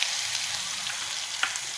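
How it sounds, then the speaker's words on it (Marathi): Green chillies, cumin and mustard seeds sizzling in hot oil, a steady close-up hiss with faint crackles and no talking. "जिरं मोहरी तडतडले की आपण त्यामध्ये थोडा हिंग घालू"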